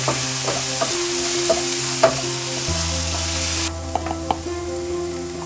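Chopped onion and green chili fry in a pan with a bright, continuous sizzle, punctuated by several sharp spatula clicks as they are stirred, close and loud with a steady background hum.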